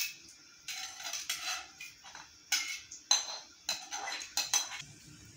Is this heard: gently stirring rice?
yes